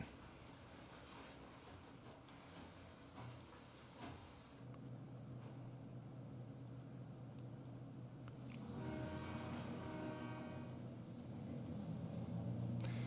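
Freight train carrying beer on the Wallace Branch, a faint, distant low rumble of wheels and engine that grows louder and fuller toward the end, with no talk.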